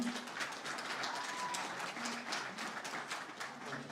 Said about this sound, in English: A round of applause for all the hard-working teachers of our Saturday school